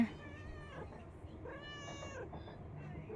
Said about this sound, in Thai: แมวน้อย